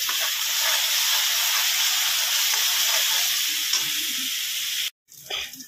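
Spice paste frying in oil with cooked tomatoes for dhaba-style kofta, a loud, dense, hissing sizzle that runs steadily, then cuts out briefly near the end before a short burst of stirring noise.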